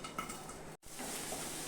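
Potatoes and onions fry in a pan for a banana-flower mocha ghonto, giving a soft, steady sizzling hiss that drops out for a moment before carrying on.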